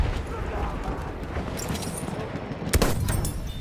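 Gunfire in the video game Battlefield 1: a dense, continuous rattle of shots and distant blasts fills the whole stretch, with a sharper, louder burst near the end and faint game voices mixed underneath.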